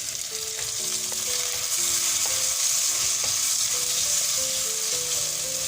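Soaked cashews frying in a pan with tomato and onion for a traditional cashew theeyal, giving a steady, close sizzle with light stirring throughout and no talking.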